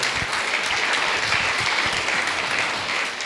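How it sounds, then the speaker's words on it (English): A seated audience gives a round of applause at a motivational talk, loud continuous clapping that swells evenly and holds for a few seconds. "A big round of applause to all of you"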